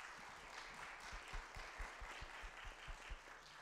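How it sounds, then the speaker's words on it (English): An audience applauds a speaker at the end of a First Nations 101 session, a soft, fairly distant patter of many hands clapping steadily. "So let's give a round of applause for Lynda."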